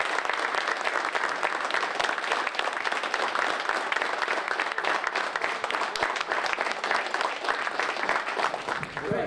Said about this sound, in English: Let's applaud them up.